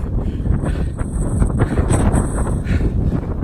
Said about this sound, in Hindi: अच्छी खासी हवा चल रही है